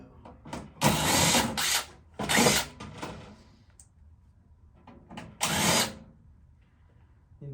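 An electric drill whirs in three separate bursts of about a second each, close and loud, with quiet pauses in between.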